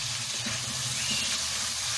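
Water pours steadily into a pan with a continuous gushing hiss, close and moderately loud, no voices.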